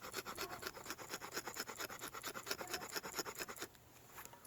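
The spine of a Fallkniven Tor knife scrapes along a surface in quick, steady back-and-forth strokes, a close, loud, raspy scratching that runs for several seconds and then stops abruptly.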